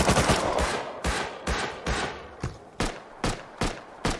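Gunfire during a base raid in the game Rust, a burst of fast shots followed by evenly spaced single heavy reports roughly every half second, loud and close.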